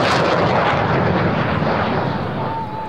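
Loud, roaring jet noise from a Saab JAS 39D Gripen fighter of the Hungarian Air Force sweeping past at an air show, a broad rushing engine roar that stays strong throughout and eases slightly at the end.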